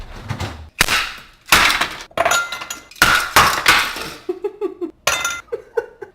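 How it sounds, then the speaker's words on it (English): Ice cubes are dropped one after another into a glass while making iced coffee, each landing as a sharp, loud clink with a short rattle, followed by lighter tinkling knocks near the end. "3 ice cubes."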